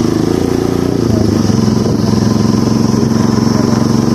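A motorcycle engine drones loud and close as the bike is ridden, a steady, throbbing mid-pitched hum with a slight rise in revs partway through.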